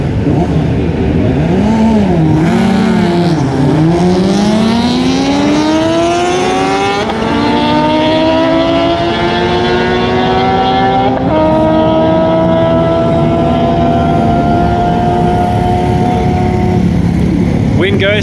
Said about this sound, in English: Honda CB going up against the ZX12